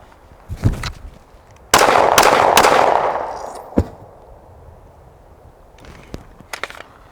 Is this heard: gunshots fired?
yes